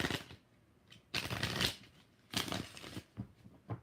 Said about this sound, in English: I'm shuffling again for the hell of